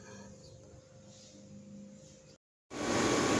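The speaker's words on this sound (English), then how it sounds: "my air conditioner happens to be just right off camera to the left-hand side, so that's what we're hearing" A steady droning hum of an outdoor air conditioner unit running just off to the side runs constantly, cuts out for a moment, then returns louder and harsher.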